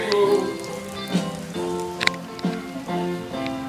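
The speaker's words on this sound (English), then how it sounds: "Actual rain." Rain falls in Mesa, Arizona, a close steady patter on surfaces with a few sharper drips standing out against a tonal background hum.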